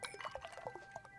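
Cold water poured into a glass as a visual novel sound effect, a short bright trickle with small clinking splashes, fairly quiet and alone.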